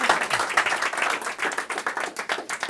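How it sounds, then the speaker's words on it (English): A workshop audience claps in a quick, uneven burst of many hands, close and fairly loud, with a few sharper individual claps standing out and no talking over it. "So everybody give her a round of applause."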